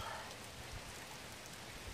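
Steady rain falls at a campsite along a trail near a shelter, a soft continuous hiss of drops hitting surfaces close by, with no voices over it.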